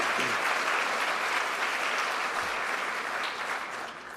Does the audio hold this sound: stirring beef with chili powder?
no